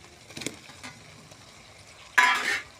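Potatoes hit hot oil and spiced masala for a chicken curry, giving a sudden close sizzle near the end after a few soft stirring and utensil sounds in a quiet kitchen.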